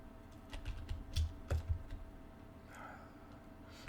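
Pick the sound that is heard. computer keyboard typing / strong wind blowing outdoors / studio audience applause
computer keyboard typing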